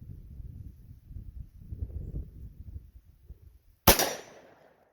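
A single sharp gunshot from a .38 Special 856 Defender revolver outdoors, loud and close with a short trailing echo, following several seconds of low wind rumble.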